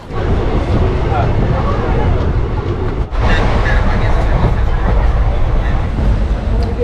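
Aboard the Teesta Torsha Express, a running train gives a dense, continuous rumble and rattle of railway carriages with a short dip partway through, loud and close, with some voices faintly mixed in.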